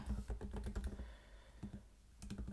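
Rapid clicks of typing on a computer keyboard, close and fairly loud, come in two bursts of keystrokes separated by a short pause.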